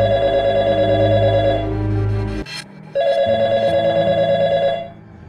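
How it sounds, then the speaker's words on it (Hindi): A telephone rings in a household scene, sounding as a steady electronic ring that repeats in two loud bursts separated by a short pause, heard alone without talk. "मैं कब से फोन मिला रहा हूँ, देर हो रही है"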